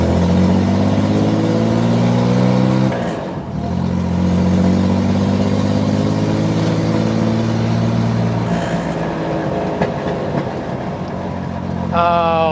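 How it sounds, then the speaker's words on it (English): Flat-six car with newly fitted custom dual glass pack exhausts pulling away, a loud, droning engine note climbing through gears with brief drops at each shift, close and continuous. "first drive on the new glass packs"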